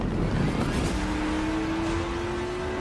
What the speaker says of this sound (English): you have Dhruv in the GLA coming in at the final lap